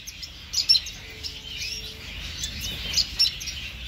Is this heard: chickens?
no